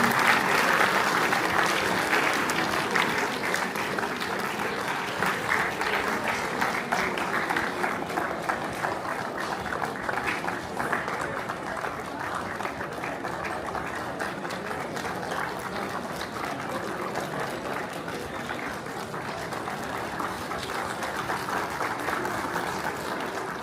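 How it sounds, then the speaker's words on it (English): A crowd at a family celebration party at home in Darjeeling claps steadily for a proud family, dense sustained applause that holds at an even level without pause. "Can we have another round of applause for Tenzing Yeshi Bhutia and his proud family?"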